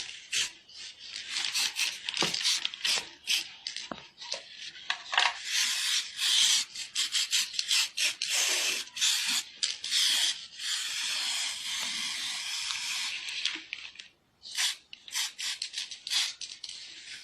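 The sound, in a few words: spray can spraying paint onto a jerrycan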